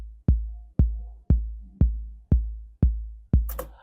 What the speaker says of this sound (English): First thing is a kick. Sounds like this.